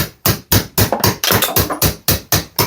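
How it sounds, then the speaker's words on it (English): Sharp, loud hammer blows drive a knife in behind a skirting board, about a dozen evenly spaced metallic knocks close by, with no other sound between them. "and then we just take our hammer and hammer that in."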